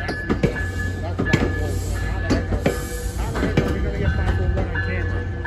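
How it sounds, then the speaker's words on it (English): A train rumbles and clatters past, with metallic clicks and squeals over a continuous roar, and people talking underneath. "Another train's coming."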